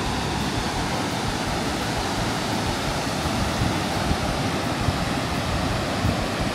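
Water pours over a dam spillway in a loud, continuous broadband roar, heard close and steady with no voices.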